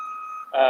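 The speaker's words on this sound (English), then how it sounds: "sorry for the beeping" A sustained electronic tone holds steady, then shifts abruptly into a louder, harsher buzzing beep at the end.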